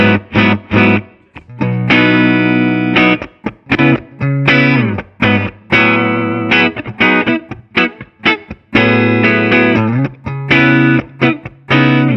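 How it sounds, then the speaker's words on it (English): A Patrick James Eggle electric guitar rings out through an amplifier, playing sustained chords and melodic notes with a slightly effected, shimmering tone. "when it's set like this, the guitar sings"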